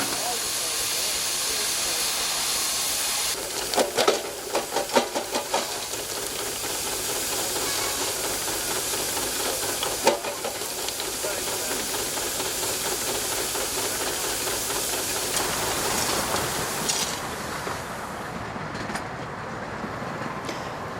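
Steam hisses steadily from a working locomotive on the Perrygrove heritage railway in the Forest of Dean, a loud continuous close-up rush broken by a few metallic clanks partway through.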